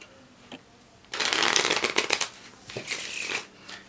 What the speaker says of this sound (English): And then I could even shuffle the cards.